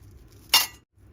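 A single bright metallic clink rings out once, like bronze vessels knocking together, then fades quickly into quiet.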